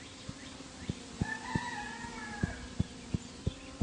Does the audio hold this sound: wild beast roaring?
no